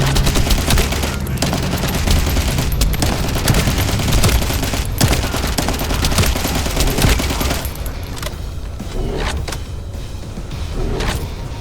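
Rapid turret gunfire from The First Descendant video game, a dense sustained barrage of loud shots with mechanical clatter that thins slightly toward the end, with no talking.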